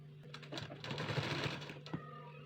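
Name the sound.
sewing machine stitching a folded fabric strip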